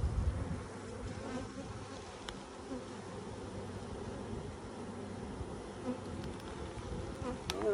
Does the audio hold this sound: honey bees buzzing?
yes